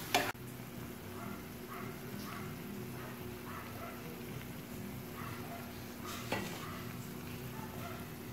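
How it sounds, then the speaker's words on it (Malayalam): Masala mix for egg puffs being stirred in a pan while it cooks, a soft continuous sizzle with quiet scraping strokes, a louder clatter of the spoon at the start and another knock midway. "ഒന്ന് നന്നായി തിളക്കി യോജിപ്പിക്കാം."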